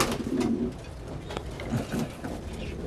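French meat pigeons cooing in a loft, where several soft, low, throaty coos repeat close by with faint rustling between calls.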